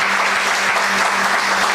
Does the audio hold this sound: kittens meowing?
no